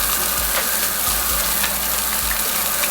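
Butter sizzling in a hot pan on the stove while cooking curry red snapper with Cajun shrimp, a steady bright crackle and hiss throughout, close and loud with occasional soft knocks.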